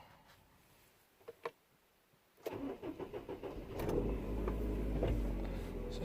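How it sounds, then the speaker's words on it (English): A car engine is cranked and started after a quiet pause with a couple of clicks, then settles into a steady, fairly close idle hum. "So start the vehicle up."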